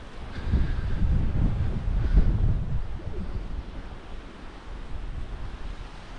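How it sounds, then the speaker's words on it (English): Wind gusting across a valley at a wild camping spot near Aber Falls in Snowdonia, Wales, a buffeting low rumble against the microphone that swells strongly early on, then eases to a steadier breeze. "It's getting quite windy now as well."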